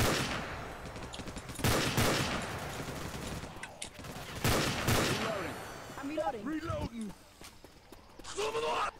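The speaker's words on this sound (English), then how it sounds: "I'm a big fan of this 3-round burst rifle." Two loud bursts of 3-round burst rifle fire in Left 4 Dead 2, a few seconds apart, with game noise and scattered sounds in between and another shot near the end.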